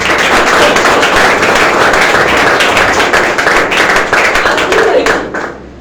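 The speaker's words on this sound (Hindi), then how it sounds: "मैं सबसे पहले चाहूंगा कोमल उनके जोरदार ताली होनी चाहिए।" An audience claps loudly for Komal, a steady burst of dense applause that carries on for several seconds before thinning out and stopping near the end.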